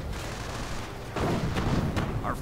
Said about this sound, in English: And mortar rounds flying into right cover.